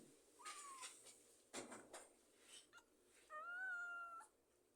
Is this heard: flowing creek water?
no